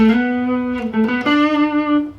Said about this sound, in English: put that slide in there, it just sounds so much better.